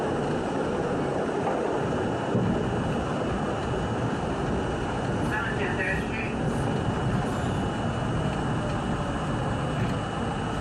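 A 1964 Budd Co. R32 subway train on the C line rumbles steadily as it pulls into 103rd Street, a loud, continuous roar of wheels and car body with a brief brighter squeal near the middle.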